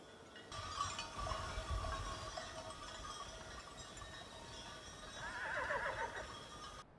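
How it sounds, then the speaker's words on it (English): Around thirty horses in the Yellowstone backcountry near Slough Creek, with one clear whinny near the end over a faint, steady background of soft clinking and movement. "There's like 30 horses out here making a ton of racket."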